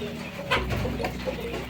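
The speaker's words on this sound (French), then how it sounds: "Voilà. Jolie poule." A hen on a poultry farm in Africa clucks a few times at close range over a steady low background hum, with no speech.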